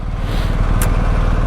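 A BMW R1250GS motorcycle engine drones steadily while riding, a constant low rumble with wind rush and no voices.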